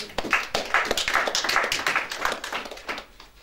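Congregation clapping together during a church worship service, a dense continuous burst of many hands that stays loud for a few seconds and then thins out at the end.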